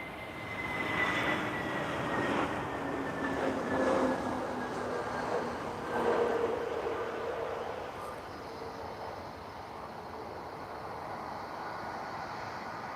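Airplane landing at Lisbon Airport, a distant jet engine roar with a high whine that swells and fades slowly, heard alone from afar.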